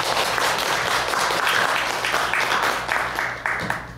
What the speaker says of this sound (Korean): 감사의 박수를 한번 드립니다.